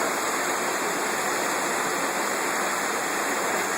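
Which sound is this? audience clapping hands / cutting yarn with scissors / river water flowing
river water flowing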